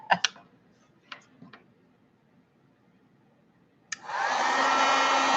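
A heat embossing tool for steampunk wall art switches on and blows hot air with a loud, steady whooshing roar after a few light clicks and taps.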